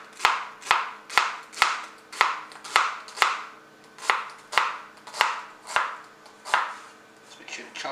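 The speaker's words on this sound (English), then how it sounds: "just make sure to chop it up." Red onions chopped on a board for tartar sauce, a steady run of about fourteen crisp knife strikes at an even rhythm, close and fairly quiet, with no talking.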